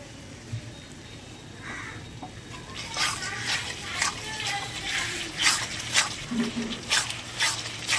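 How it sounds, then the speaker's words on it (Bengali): Water poured into a pan of katla fish curry (kalia) after yogurt has been stirred in, a steady splashing pour building up in the second half, close and moderately loud. "এবার জল দিয়ে দেবো।"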